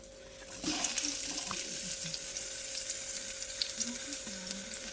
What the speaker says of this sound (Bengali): এবার আমি তেলের মধ্যে পেঁয়াজ দিয়ে দিব